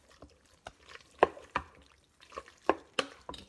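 A spoon stirs cheesy tortellini in a bowl, making a series of soft, wet clicks and scrapes about every half second, fairly quiet with pauses between.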